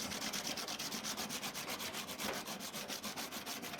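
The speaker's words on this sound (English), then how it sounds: "You can just take a piece of emery cloth over them and just..." Emery cloth scrubs over the pointy bits on air crete for a rocket mass heater baking oven, a close, steady rasping rub in quick regular back-and-forth strokes with no voices.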